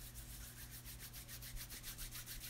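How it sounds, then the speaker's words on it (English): Soft ear pads made of alpha material rub close against a microphone, giving a steady, continuous brushing scratch with faint rhythmic swells and no talking. "This is the sound of the alpha pads, and you just take the alpha pad up next to the mic"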